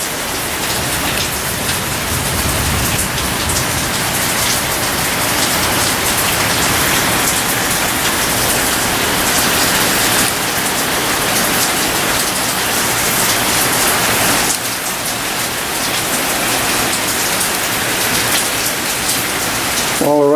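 Heavy rain pours down in a loud, dense, unbroken hiss that holds steady throughout, close by and with no voices over it.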